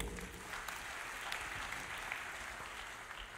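Church congregation applauding together, a steady broadband wash of clapping that fills the whole moment without pause, with no distinct voices rising above it.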